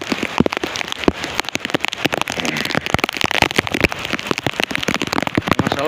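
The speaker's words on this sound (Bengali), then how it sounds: "ভালো বৃষ্টি হচ্ছে" Heavy rain pours steadily in Dhaka, a dense continuous patter of drops hitting surfaces with sharp close splashes throughout, loud and alone with no voices.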